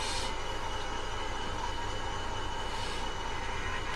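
A model railway Class 20 locomotive sound runs on the layout, a steady continuous mechanical hum and rumble at moderate level with no talking.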